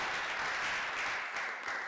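Sustained ovation from an auditorium audience at a German book prize ceremony, a steady wash of many hands clapping at moderate, even level throughout with no voices standing out.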